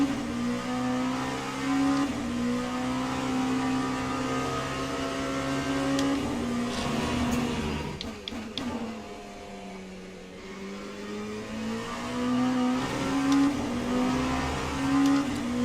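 LMP2 prototype race car engine in Le Mans Ultimate at Bahrain, a loud sustained drone with steady high revs that dip briefly mid-run as the car slows, then climb again, with no talk.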